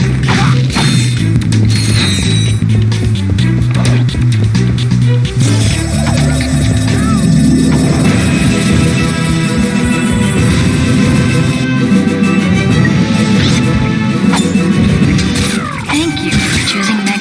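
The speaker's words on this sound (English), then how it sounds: "Dynamo activates machinery." Dynamo activating machinery in the Ratchet and Clank 2: Going Commando video game, a dense, loud mix of whirring mechanisms, metallic clanks and crashes with sustained tonal hums over a game music bed.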